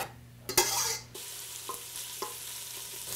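Half an onion and three or four cloves of garlic sauté in a stock pot, a steady soft sizzle with a louder burst as something is tipped in and a few clinks and scrapes of stirring.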